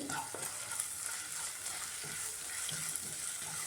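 Dried red chillies and curry leaves frying in hot oil, a steady close sizzle with faint stirring scrapes throughout.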